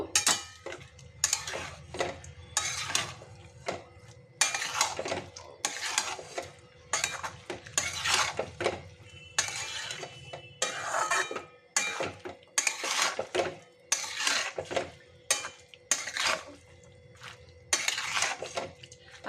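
A spoon repeatedly scrapes and clatters against a pan as turmeric powder is stirred into spices, in steady rhythmic bursts, close and fairly loud, with no talking.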